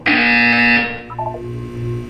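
A loud electronic buzzer from the video game Portal 2 holds a harsh, sustained tone for most of a second, then gives way to a lower, softer pulsing hum that continues behind it.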